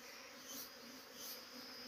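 Bees swarm around a hive in a hollow tree trunk, giving a steady, dense buzzing drone that holds throughout with slight swells in loudness, fairly close and with no voices.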